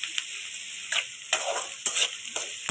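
Onions sautéing in a pan for kichadi: a steady sizzle runs underneath while a spatula scrapes and stirs in repeated bursts, close and clear, with no talking.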